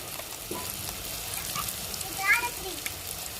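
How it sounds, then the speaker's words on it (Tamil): Chopped tomatoes hit hot oil in a pan for a coconut milk egg gravy, a steady low sizzle and crackle with small stirring clicks, fairly quiet and close throughout. "வெட்டி வச்ச தக்காளியும் எடுத்துக்கிறோம் அளவு சேர்த்துக்குவோம்"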